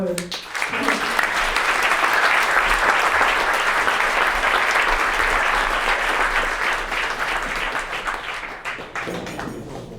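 Sustained, loud applause from an audience at a centennial anniversary recognition evening of a naturalists' society, steady clapping filling the whole stretch before tapering slightly near the end.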